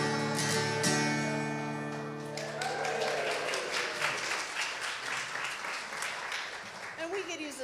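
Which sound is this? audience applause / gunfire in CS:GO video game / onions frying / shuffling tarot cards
audience applause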